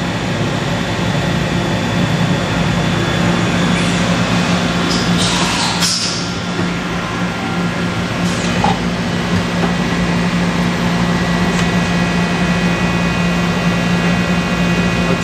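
A Hardinge Conquest CNC chucker lathe runs a machining cycle on a small torque interrupter part, giving a steady loud machine drone and hum with a few brief higher hisses of coolant or air.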